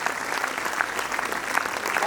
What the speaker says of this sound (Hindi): मैं चाहता हूं एक बार जोरदार ताली हमारे रोहित शर्मा जी के लिए।